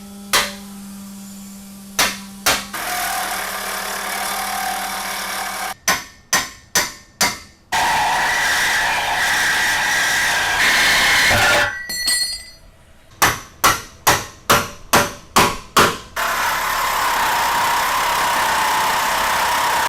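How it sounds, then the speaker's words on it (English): Steel hammer blows on a chisel in quick series alternate with the sustained loud buzzing of a sawzall cutting through a bumper frame mount on a 2020+ Ford Transit, close and without talk. "I like to drive a chisel in between the frame mount and the bumper just far enough to get a sawzall blade in"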